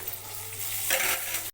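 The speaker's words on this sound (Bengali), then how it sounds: "কড়াইয়ের মধ্যে কিছুটা গাজর বিনস ভাজা এসব দিয়ে দিলাম" Carrots and green beans stir-frying in a hot wok, a steady close sizzle with scraping and stirring that swells to a louder hiss partway through, no talk.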